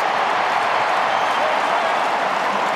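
Football crowd at an AFL match between St Kilda and Carlton roaring after a long kick, a broad, steady wash of distant cheering and applause with no gaps.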